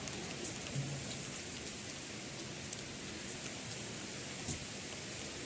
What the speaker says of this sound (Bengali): বাইরে বৃষ্টি হচ্ছে, কি করব।